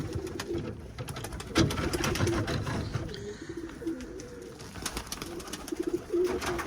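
Pigeon squabs coo softly in a loft, repeated low throaty burbles close by over a rustling background, with no talking.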